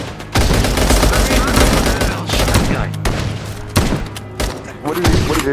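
Heavy bursts of gunfire from a weapon in a Sonic zombie game, loud and close, coming in repeated volleys with sharp thumping shots and brief pauses.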